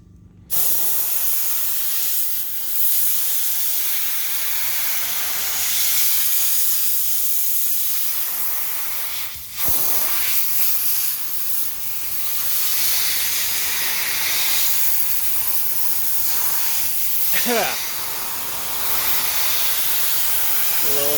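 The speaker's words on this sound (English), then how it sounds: "Blowing the combine filter out here." Compressed air blasting dust out of a combine's air filter during a breakdown in soybean harvest, a loud steady broadband hiss running almost continuously with brief dips and a few sharper bursts.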